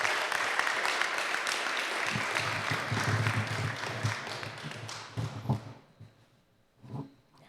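A crowd applauds at a certificate presentation ceremony as Warden Alan Borja of the Department of Corrections is welcomed: dense, steady clapping for about five seconds that then thins out into a few scattered claps.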